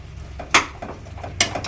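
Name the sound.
stirring boiling gravy in a pot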